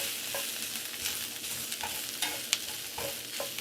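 Mongolian beef and peppers frying in a hot pan, a steady sizzle broken by scraping stirs and occasional clacks of a utensil, near and continuous, with no voices.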